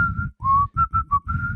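A single person whistles the melody of a song, clear and close: a held note, a gliding one, then several short clipped notes and a final sustained tone, with breathy low noise under each phrase.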